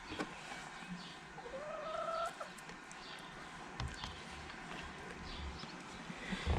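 A hen sitting on eggs in a chicken nest clucks and murmurs in a few short calls, with a rising squawk midway, close by over soft rustling and a low background rumble.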